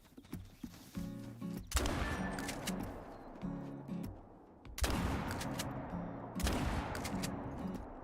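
Gunfire from a Soldado shotgun in a hunting video game: three loud, separate blasts spaced a few seconds apart, each with a long rolling tail, over quieter clattering background sounds.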